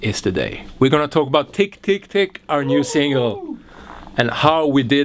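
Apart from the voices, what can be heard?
No distinct noise like a dog, phone or traffic.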